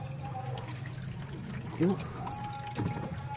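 Water pours out of an open washing machine drain in a steady splashing flow, with a person talking briefly over it.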